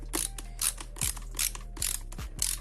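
A screw being tightened with a ratcheting screwdriver during a JBL Flip 5 speaker teardown, a steady series of clicking ratchet bursts at regular intervals, close and clear.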